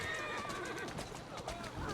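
A horse whinnies in the Assassin's Creed video game, a fairly loud neigh with faint clip-clop of hooves behind it, over a busy background of game sound that lasts the whole two seconds.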